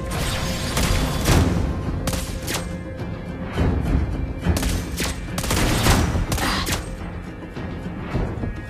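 Dense bursts of gunfire from the game Mobile Legends: Bang Bang crackle in rapid volleys, loud and continuous, with heavy booming impacts underneath and no pauses.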